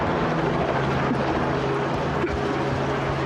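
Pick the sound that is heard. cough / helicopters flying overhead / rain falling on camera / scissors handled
helicopters flying overhead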